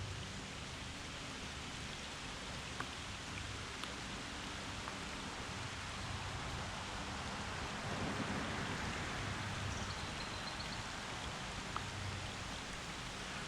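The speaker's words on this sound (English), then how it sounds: "Well, it's raining." Steady rain falls over a small creek, a dense, even hiss of drops with no break and no voices, heard outdoors at a fishing spot.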